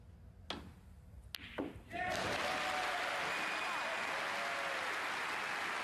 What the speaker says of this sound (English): And a giant roar from the crowd